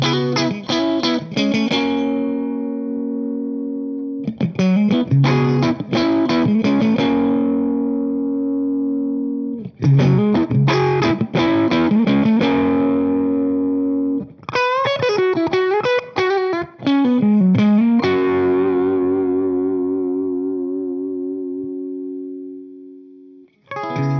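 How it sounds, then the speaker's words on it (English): A James Tyler HSS electric guitar, its onboard preamp engaged with a mid-range boost, plays loud, distorted chords and sustained single-note bends with effects, in separated phrases that ring out alone. "with the option to add in a mid-range boost, which sounds like this."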